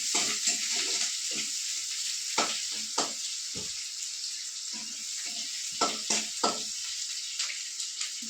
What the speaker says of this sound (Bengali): এখন তরকারিটা বসাবো, কড়াই দিয়ে দিচ্ছি পেঁয়াজ, কাঁচা লঙ্কা,